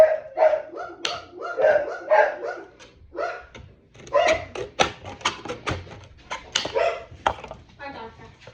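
Dogs bark repeatedly indoors near a kit-building workbench, with sharp clustered barks and yips in irregular bursts, some overlapping, fairly loud and close.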